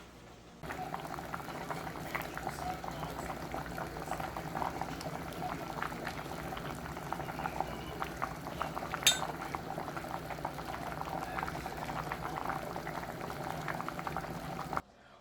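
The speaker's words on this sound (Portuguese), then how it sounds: "Vou deixar aqui cozinhando e daqui a pouco a gente volta." Red onion jam cooking with wine in a pot, bubbling and simmering steadily and close for about fifteen seconds, with a faint clink of a utensil partway through and no talking.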